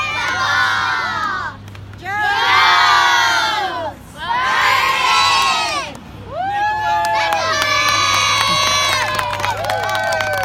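Outdoor crowd of schoolchildren at an Arbor Day park event shouting and cheering in loud bursts, three rising waves of high-pitched screams separated by short lulls, then sustained cheering over a steady low hum.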